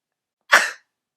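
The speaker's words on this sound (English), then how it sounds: "I'm going to sneeze" A woman's single sharp sneeze, a brief explosive burst of breath in an otherwise silent room.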